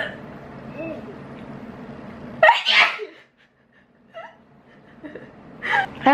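A sick person doing homework late at night sneezes sharply and close by, first in the middle and again at the end. A voice is heard just before.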